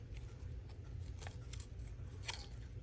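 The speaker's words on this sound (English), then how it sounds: "see if I can get him fussy cut quickly." Scissors fussy cutting a printed paper image, quiet crisp snips repeating every half second or so over a low room hum.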